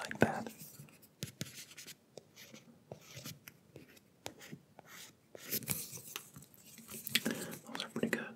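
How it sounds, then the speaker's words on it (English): Light grinding and scratching made right against a Blue Yeti microphone for ASMR, close, dry rasping strokes that come in uneven bursts and swells, with brief pauses between them. "Just like perfect grinding sound."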